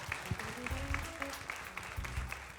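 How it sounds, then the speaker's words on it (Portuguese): Applause from the audience at a panel talk, with scattered claps, a low murmur and some faint voices, and no sustained crowd roar. "Palmas só hoje."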